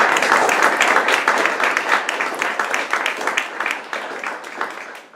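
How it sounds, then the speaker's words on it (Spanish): A room full of people at an award ceremony claps steadily, the applause holding strong before gradually tapering off. "pues un aplauso al presentador"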